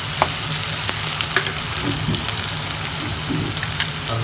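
Curry leaves and green chilies stirred in hot oil for a homemade lemon pickle, a steady close sizzle with soft scraping stirs and a few sharp crackles, with no voices.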